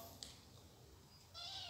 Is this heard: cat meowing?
yes